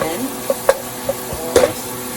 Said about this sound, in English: Our garlic. Let's mix it until golden brown again.